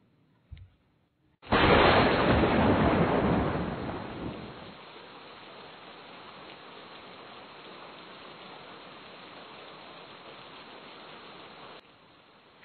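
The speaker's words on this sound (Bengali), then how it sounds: "তার সঙ্গে বজ্রাঘাত" A cartoon thunderclap bursts in loud after a short click, then decays into a steady hiss of heavy rain that continues at a moderate level before cutting off abruptly.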